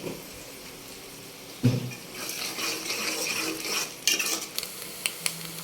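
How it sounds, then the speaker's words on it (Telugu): Prawns fry dry in hot oil in a pan, a steady close sizzle with a few scraping stirs and utensil clinks against the metal; no one speaks. "రొయ్యలు అనేది ఇలా వేయించుకోవాలండి మంచిగా డ్రైగా"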